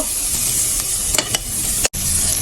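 Loud, steady sizzle of whole rohu fish pieces frying in hot oil, a dense crackling hiss throughout with a brief cutout near the end.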